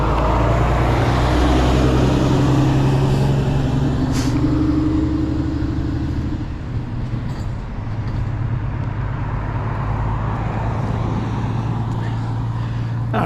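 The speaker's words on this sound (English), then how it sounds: "We got a big truck behind us." A big truck passes cyclists on a road, its engine rumbling loud and close, holding steady before slowly easing off as it moves on, with a brief hiss partway through.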